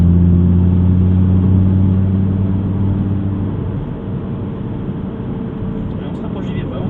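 An Audi R8 V10 rated at 525 hp accelerates on the Issoire circuit, its engine a loud, steady drone that builds and then broadens into a rougher roar as it pulls through the corner.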